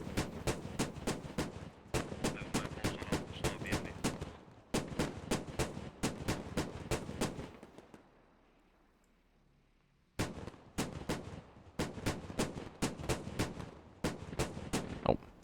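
Gunfire and anti-tank fire in a military video game come as dense rapid bursts of sharp, loud shots, broken by a quiet gap of about two seconds before the firing resumes.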